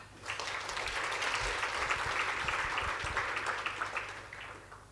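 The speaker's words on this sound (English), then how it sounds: "let's give him a round of applause for that" Applause from the audience at a live budget dissection event, a dense, steady wash of many hands clapping at moderate level with a low background hum, rising quickly and holding through to the end.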